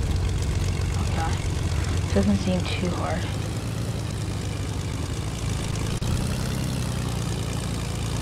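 A propeller plane's engine starts and runs in the video game Fortnite, a steady droning hum held under a player's talk for the whole stretch.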